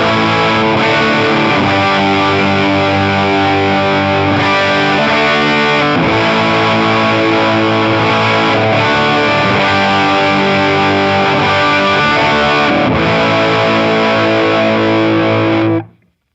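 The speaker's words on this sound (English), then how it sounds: "Right here is the standard sound that you've always heard from a blues driver" Electric guitar driven through a Boss Waza Craft Blues Driver overdrive pedal in standard mode, playing continuous gritty chords and notes at steady loudness with no talking, ending abruptly.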